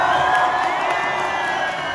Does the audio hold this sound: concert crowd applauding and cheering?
yes